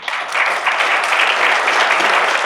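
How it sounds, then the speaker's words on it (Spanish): Loud, steady applause from a seminar audience for the panelists at an urban mobility conference in Ecuador, many hands clapping together in a close, dense wash with no talk. "les pido un fuerte aplauso"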